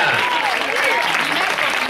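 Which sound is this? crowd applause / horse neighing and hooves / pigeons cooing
crowd applause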